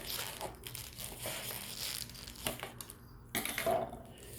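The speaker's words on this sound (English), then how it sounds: "These scissors are like they don't even want to cut" Crinkling and crunching of stiff taped plastic packaging with sharp scissor snips and rustles, irregular and close, as it is cut and torn apart.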